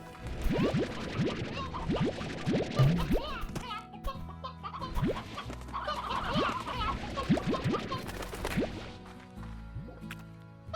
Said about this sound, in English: I need to pick up chickens on my way through.